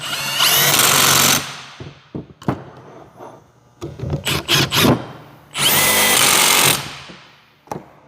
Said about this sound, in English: I like to hit it with the impact and just do it fast